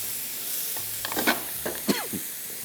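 Chicken and coriander stir-frying over high heat in a pan, a soft continuous sizzle broken by a few scraping stirs and clinks of a utensil, close and moderately quiet.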